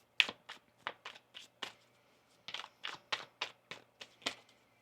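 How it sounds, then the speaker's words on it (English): Tarot cards are shuffled by hand in quick, crisp bursts of riffling and tapping, about a dozen sharp close strikes with short pauses between them. "One more shuffle here."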